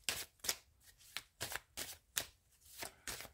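Tarot cards being shuffled by hand, about nine quick riffling bursts in a steady rhythm, close and soft, with no speech.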